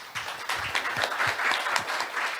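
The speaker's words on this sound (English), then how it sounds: "please welcome him with a big round of applause" Audience applause at an Asia-Pacific ADR conference session in a hall as a moderator is welcomed, steady dense clapping from a crowd, moderately loud and continuous.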